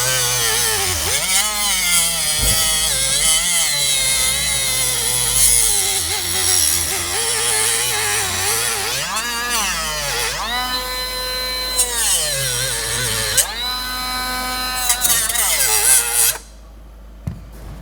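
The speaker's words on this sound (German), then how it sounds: "Ich hole mal eine Flex." An angle grinder whines up and down in repeated bursts during a repair of squeaking control arms on a Tesla. The tool runs loud and close, then cuts off abruptly near the end.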